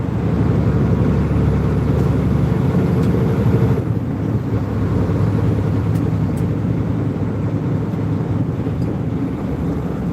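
A car engine drones loud and close, its steady low rumble shifting pitch around the middle as the gears come down, with no one talking.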